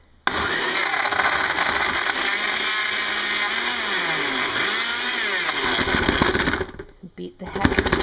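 A blender whizzes about a cup and a half of ice into an Oreo cookie high-protein shake, a loud, steady grinding roar lasting several seconds whose pitch dips and swells as the ice breaks up, then cuts off.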